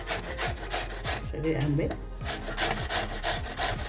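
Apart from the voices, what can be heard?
grating raw mango with a hand grater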